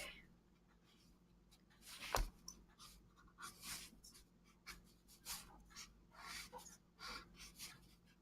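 Pen sketching quickly on paper, soft scratchy strokes and scribbles coming in irregular bursts, faint and close, with one sharper tap partway through.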